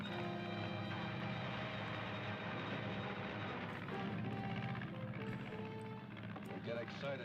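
An airplane drones steadily during an aerial combat scene in a 1950s science-fiction serial, its engine hum running continuously beneath dialogue and other scene sounds.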